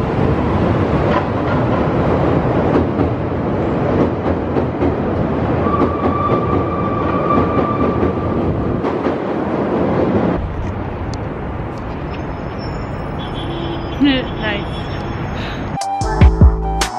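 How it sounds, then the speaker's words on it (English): A train rumbles past close by, loud and rushing with rail clatter, then fades to quieter street noise with scattered clicks. "we're gonna wait for a train so you can see them."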